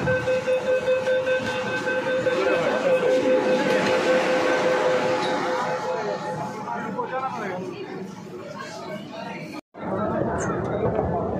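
A Kolkata metro train runs under the Hooghly river between Howrah and Esplanade, a loud continuous rumble and whine that shifts as it enters the tunnel, with voices talking over it.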